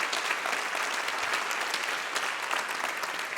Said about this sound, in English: Can we give Tom Berlin and the Floris United Methodist Church a great round of applause for hosting us this afternoon?